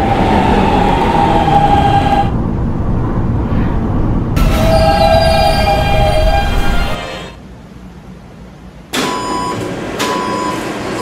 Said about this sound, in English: This is a Rentar Plaza bound D train